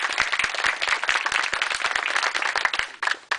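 An audience applauds at a fire safe council grant ceremony, a dense, steady burst of many hands clapping close by for about three seconds before tapering off at the end.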